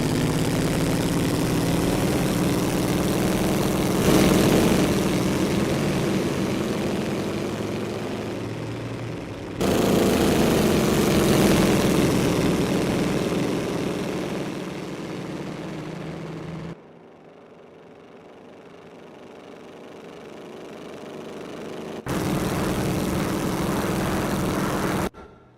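Race car engine in Assetto Corsa during an endurance race at Rouen-les-Essarts, a loud continuous low rumble that drops away sharply twice, quieter for a few seconds, then returns at full strength.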